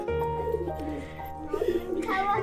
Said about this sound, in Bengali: আমার বাবা এখানে পায়রার খেতে দেবে দাও খেতে দাও